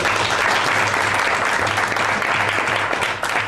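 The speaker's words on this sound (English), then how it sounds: "Let's give them another round of applause." A room full of audience members at a panel event at the African American Museum of Philadelphia applauds steadily, a dense, even wash of clapping that holds throughout with no talk over it.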